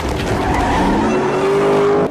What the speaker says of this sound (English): That V8 sounds great.